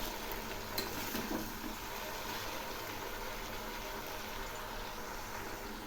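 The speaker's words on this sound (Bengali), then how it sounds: "এবার আমি দিচ্ছি কয়েকটা ভেজানো ছোলা, আবার একটু নেড়ে দিচ্ছি" Soaked chickpeas and greens get stirred in a pan over a steady low frying sizzle, with a brief scrape of the spatula near the start.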